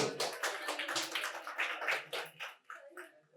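An audience claps loudly and steadily in applause for a quiz competition winner at a medical college prize-giving, the dense clapping tapering off toward the end.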